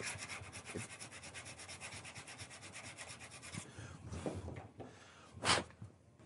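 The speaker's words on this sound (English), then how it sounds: "Then you can hit it with your little sander." A small sander works over a glued wooden assembly with close, rhythmic rubbing strokes for several seconds. Scattered knocks and handling noises follow as it stops.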